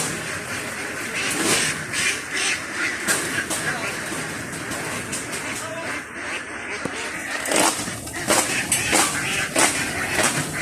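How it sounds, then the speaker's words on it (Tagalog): A flock of 5-month-old ducks being unloaded, quacking in scattered bursts under a continuous rumbling background, with people talking throughout. "nakababa na itong mga itik natin"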